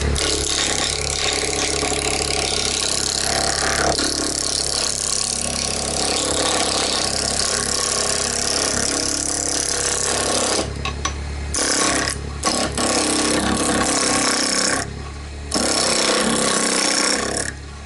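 A wood lathe spins a chess rook blank while a roughing gouge cuts into it, a loud steady grinding whir that holds for many seconds and then breaks into choppy bursts and brief drops toward the end.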